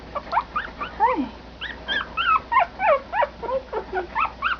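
Three-week-old Yorkie puppies let out a rapid run of thin, high whimpers and yips, close up and nearly continuous, with no voices over them.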